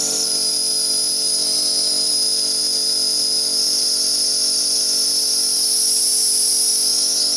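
A Karcher K4 Full Control pressure washer sprays steadily from its lance on a raised pressure setting, giving a loud, continuous high hiss with a constant motor hum underneath and no pauses.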